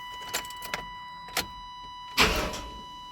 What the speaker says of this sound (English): Yeah, fuel pump's priming.